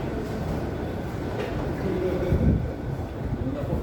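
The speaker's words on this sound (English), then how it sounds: "I'll go out here and wait for this train to come by." A train rumbles past close by, a low steady roar with a heavier swell midway, with faint voices in the background.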